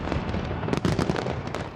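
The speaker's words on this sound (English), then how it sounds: "The pop and flare of the fireworks illuminating the capital's River Thames." New Year fireworks over the River Thames in London crackle and pop in dense, continuous bursts, a loud wash of rapid explosions with distant crowd noise blended underneath.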